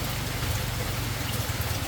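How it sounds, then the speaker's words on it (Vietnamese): Steady rain falls outdoors in a rural Vietnamese setting, a dense, even hiss with a low rumble underneath, continuous and fairly loud with no voices. "hôm nay trời mưa như này"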